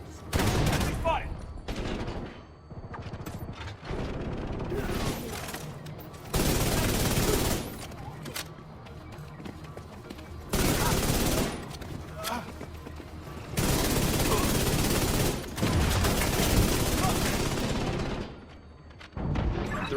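Gunfire in The Division 2 video game: repeated loud bursts of automatic fire and volleys in several sustained stretches, separated by brief quieter gaps, with occasional talk in the background.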